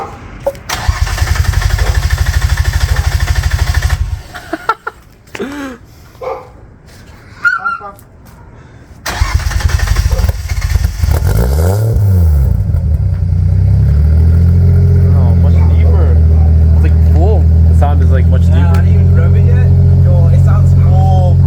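A Nissan Skyline R33 fitted with an HKS exhaust cranks and fires up, then settles into a loud, steady rumbling idle, with people talking over the engine in places.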